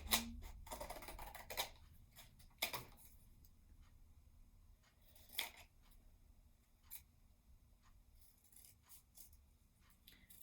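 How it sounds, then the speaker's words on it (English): Scissors snipping out a paper template for a library craft, a handful of sharp separate cuts spaced across a quiet room, close and crisp, with no talking. "I got one more template to cut out"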